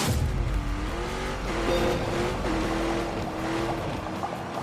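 Hennessy-tuned Camaro with a 1,000 hp engine in The Grand Tour racing game, droning steadily with rising and falling pitch through shifts, a loud, continuous engine tone with no talking.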